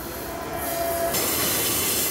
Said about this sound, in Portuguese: O trem tá passando aqui, barulho danado.